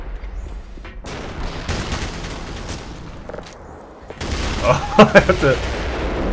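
Rapid gunfire and explosive bursts from the Black Mesa game, set during a TOW launcher battle, with a louder cluster of sharp blasts near the end; someone talks briefly over the opening.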